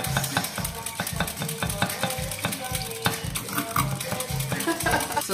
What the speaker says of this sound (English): So I've done what we call